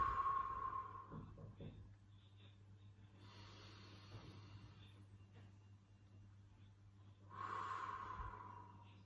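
Slow, deep breaths taken while sitting during a meditation exercise, a soft hiss of air swelling near the start and again near the end, quiet and close with stillness between.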